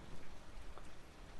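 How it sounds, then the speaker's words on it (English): Rain falling outside, a soft, steady hiss of drops that stays faint and distant, with no voices over it. "because it's raining"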